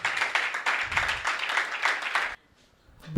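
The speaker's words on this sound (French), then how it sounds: "Nous allons recevoir avec des applaudissements bien mérités" An audience at a televised tribute to the Beninese army claps steadily for an arriving adjudant-chef guest. The dense, close applause runs for about two seconds, then cuts off into near silence before a faint sound rises at the end.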